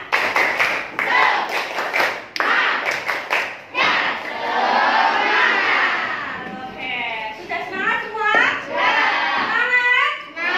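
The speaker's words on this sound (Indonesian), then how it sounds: "Yuk, tepuk semangat." Students in a classroom perform a rhythmic spirit clap: quick bursts of group hand-claps in a patterned beat, then lively children's voices chanting and calling out together, close and loud.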